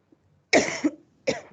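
Two separate coughs from one person, the first longer and harsher, the second shorter after a brief pause, both close and loud against an otherwise quiet room.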